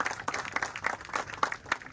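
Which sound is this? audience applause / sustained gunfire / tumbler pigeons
audience applause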